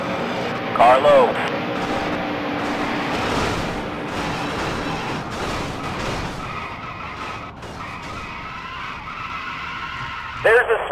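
A race car spinning and skidding in turn three in NASCAR Dirt to Daytona, a drawn-out tire scrub and engine roar over several seconds while a spotter voice talks over it, with brief chirps near the start and end.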